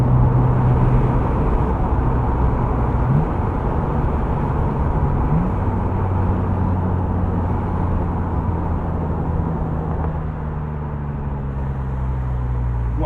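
A 1999 BMW Z3 M Roadster is driven with the windows down. Wind buffets and roars steadily over a low engine drone, constant throughout and loud and close, with no voices.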